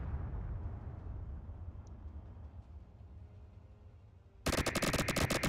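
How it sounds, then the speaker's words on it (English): In a video game, a mammoth tank's assault cannons open up abruptly near the end, a loud, rapid rattling volley of shots that cuts in over a low rumbling background. "These are all assault cannons."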